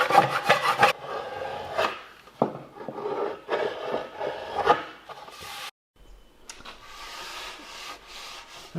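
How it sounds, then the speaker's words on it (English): A hand scraper works dried glue off a reclaimed timber tabletop in short, rasping strokes, close and fairly loud, with brief pauses between bursts and no talk. "I'm just going to give it a scrape"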